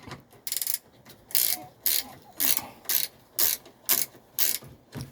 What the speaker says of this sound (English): that one right there, that requires a socket. So we'll go ahead and get that undone.